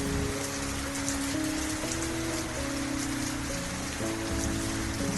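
Heavy rain pours steadily and loudly, a dense continuous hiss with drops drumming on a surface, and a low tonal hum running underneath.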